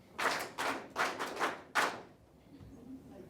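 A few scattered, sharp bursts of clapping come from a small audience, five or six distinct claps in quick succession before fading into quiet room tone.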